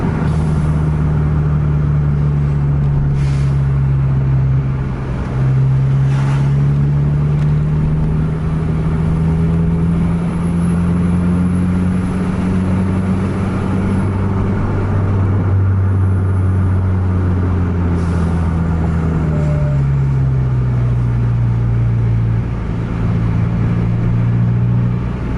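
Buses racing one another on an Indonesian road give off a loud, continuous low engine drone that rises and falls as they accelerate and shift, heard up close for the whole stretch.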